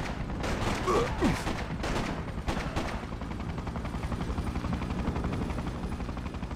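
Gunfire rattles in the Freedom Fighters shooter, rapid bursts of shots over a steady rumbling battle din that also holds a helicopter-like drone, sustained and moderately loud throughout.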